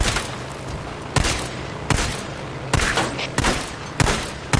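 Gunfire in the video game Days Gone, a string of sharp, loud shots spaced irregularly across the moment, some in quick pairs, with no voices over them.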